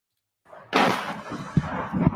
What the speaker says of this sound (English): That's an artillery barrage.